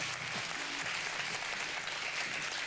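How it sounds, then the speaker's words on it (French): Studio audience at a French television game show applauding the host's entrance, a steady, even roar of many hands clapping, moderately distant and continuous with no talk over it. "Merci d'applaudir Thierry Beccaro."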